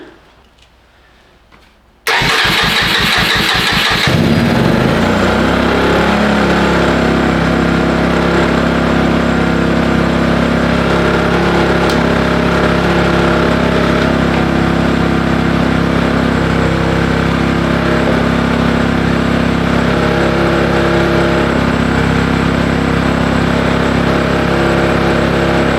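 A 1995 Honda FourTrax 200 ATV engine cranks briefly and catches, then settles into a loud, steady idle with a low droning rumble that runs close and continuous for over twenty seconds.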